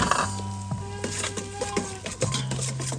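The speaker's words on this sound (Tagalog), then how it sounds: "So ngayon, ilagay muna natin ang ating onion and garlic." Onion and garlic frying in a pan for eggplant pasta, a steady close sizzle with a few stirring scrapes and clinks, with no talking.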